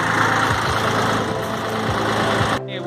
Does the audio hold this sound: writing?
no